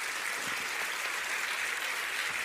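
Church congregation applauding during a Portuguese-language sermon, a dense, steady wash of many hands clapping throughout, fairly loud and close with no talk over it.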